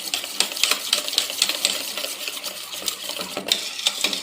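Liquid ingredients for a fruity chocolate cake being beaten in a bowl, a steady rapid clatter of whisking close by with no talk.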